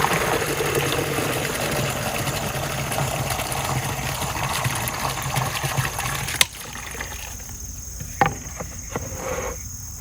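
Water gushes steadily from a thick pipe outlet into a chicken waterer, a loud broadband rush that cuts off abruptly partway through, leaving quieter outdoor ambience with a couple of brief knocks.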